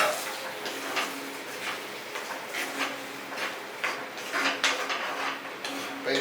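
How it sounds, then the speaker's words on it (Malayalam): A spoon clinks and scrapes in a pan while onion and curd curry is stirred, giving light irregular taps and knocks, close and fairly quiet. "നമുക്കിത് ഇളക്കാം"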